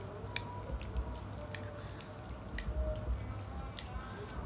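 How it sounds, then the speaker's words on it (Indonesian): Bakso meatball soup stirred in a bowl: soft, faint wet sloshing with light drips and occasional clinks of a utensil, steady and quiet throughout. "Kita aduk ya."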